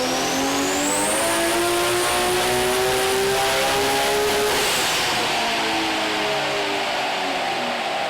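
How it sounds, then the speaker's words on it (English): A Nissan Skyline R32 GTR tuned to about 920 horsepower screams under load during dyno runs, a loud sustained engine note climbing in pitch for several seconds before dropping off as the throttle lifts, with no talk. "Mark ran the car up during our shoot in less than perfect weather conditions and ripped out 2 920 horsepower dyno runs"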